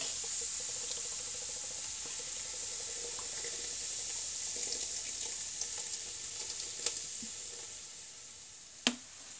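Diet Coke poured from a can over ribs in a cooking pot makes a continuous fizzing, bubbling hiss, with a few small clinks and a sharp knock near the end and no speech.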